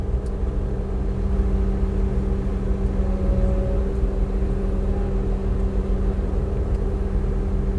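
Weiss McNair 2930 sweeper engine idling steadily with no load, a constant low droning hum with a faint tonal whine, close and continuous throughout.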